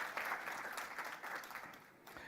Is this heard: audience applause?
yes